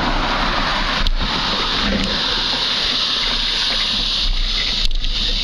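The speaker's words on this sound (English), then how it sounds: "I'm riding through about 2 or 3 inches of water, I guess, in certain parts" A mountain bike ridden through two to three inches of flood water in a New Orleans suburban alley, giving a steady, close rush and gush of splashing water across the whole stretch, with a couple of brief sharper knocks.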